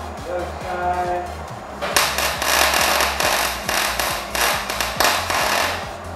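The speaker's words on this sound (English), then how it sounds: "We're just gonna add some weld just so that this stops playing." Welding on the limited slip differential of a Mazda RX-7 FC begins about two seconds in: a loud, steady crackling hiss over a low, pulsing hum that continues to the end.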